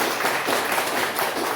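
A church congregation clapping during a worship service, a steady, even wash of many hands applauding together throughout, with no pauses.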